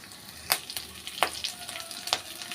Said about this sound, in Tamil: கடுகு வந்து நல்லா பொரிஞ்சிருச்சு